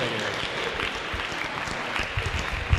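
Wedding reception guests clap together right after a toast, a dense sustained burst of applause filling the room, with a few voices faintly mixed into it.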